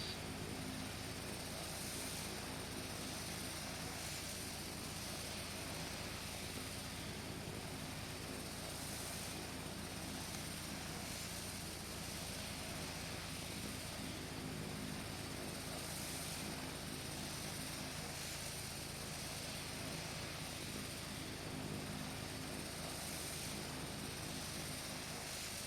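Just Flight Piper Arrow single-engine propeller plane in a flight simulator game, its engine a steady, dense droning roar with broadband airflow hiss, constant and unbroken throughout, heard from inside the cabin.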